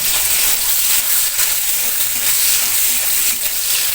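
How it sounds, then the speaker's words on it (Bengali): Garlic fries in hot oil with black cumin in a pan, giving a dense, continuous loud sizzle close by with faint stirring pulses, no talking. "একটু বেশি করে রসুন দিলাম,"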